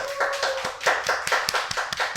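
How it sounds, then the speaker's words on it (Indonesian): A short burst of scattered clapping from a small podcast studio audience, uneven and moderately loud, with a few sharper taps standing out. "Tepuk tangan dong untuk Cut Bre dong."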